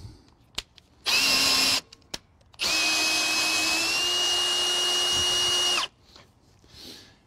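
Power drill driving a Lippert Quick Drop tongue jack on an RV trailer: a short whirring burst, a pause, then a longer steady motor run of about three seconds before it stops, close and loud.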